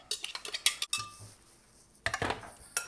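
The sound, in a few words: mixing seitan dough ingredients in a bowl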